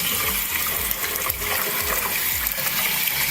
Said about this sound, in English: I'm gonna flush it with cold water.